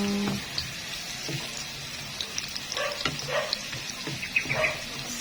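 Onions sautéing for ginisang monggo with pork and malunggay give off a steady, moderate sizzle in a pan, with scattered crackles and a few louder pops toward the end and no talking.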